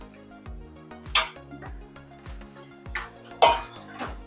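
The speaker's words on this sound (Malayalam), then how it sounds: "ഇനി അതിലേക്ക് നമുക്ക് നാര് കളഞ്ഞ കൊഞ്ച് ചേർത്ത് കൊടുക്കാം." Cleaned prawns go into boiling tamarind water in a pot for a Kerala prawn curry, giving a soft bubbling rhythm punctuated by two sharper metallic clinks and splashes of utensil against pot.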